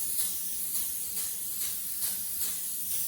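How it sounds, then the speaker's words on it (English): Short repeated bursts of avocado oil aerosol spray hiss onto a sheet pan in a home kitchen, close and steady, roughly one spurt every half second. "We are just going to spray the sheet pan with some avocado oil spray."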